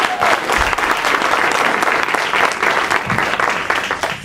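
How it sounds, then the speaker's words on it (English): An audience at an evening inspiration event applauds an honoree, steady thick clapping that stays loud throughout. "let's give Ketler one more round of applause"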